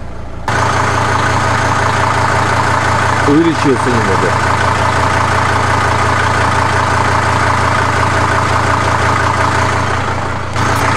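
Mercedes-Benz W210 E290 diesel engine idling with a knock, heard close and loud as a steady, rumbling idle with a low hum, while someone speaks briefly over it.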